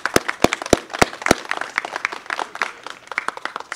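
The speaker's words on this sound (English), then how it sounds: "I want to give another round of applause for our scholarship recipient" At a memorial breakfast, an audience claps for a scholarship recipient: a few sharp, loud claps up close start it off, then scattered applause from the room continues and thins out.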